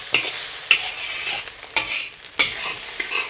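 Fried rice for Malay kampung nasi goreng with sweet soy sauce being stirred in a hot pan, several sharp spatula scrapes and clacks over a soft background sizzle, close by.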